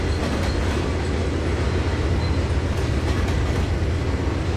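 Freight train boxcars in the Trainz 2022 railroad simulator rolling past in a steady, dense low rumble with faint rhythmic clatter, continuous and loud throughout with no voices.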